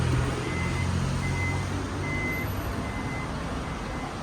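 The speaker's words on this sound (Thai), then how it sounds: "ประตูไฟฟ้านะคะลูกค้า ด้านหลังนะคะ" Rear power tailgate of a 2016 Toyota Fortuner 2.4V automatic SUV operating, with a steady warning beep repeating at even intervals over a low continuous motor hum, close by with no voices.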